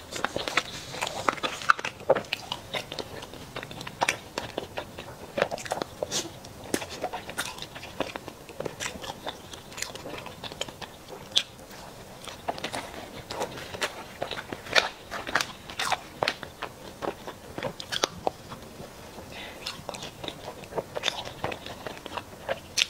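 Chocolate being bitten and chewed close up, a continuous stream of crisp crunches and sticky mouth clicks in an irregular rhythm, loud and intimate, with no voices.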